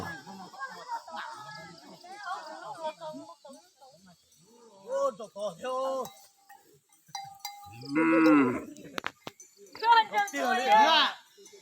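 Cattle with young buffalo calves on a farm, several moos and bellowing calls at varied distances, with cowbell clinks and occasional human voices in the background.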